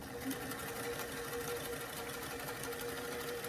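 A sewing machine runs steadily while stitching a pants seam, a continuous close-up mechanical whir with a fast stitching patter throughout, with no pauses.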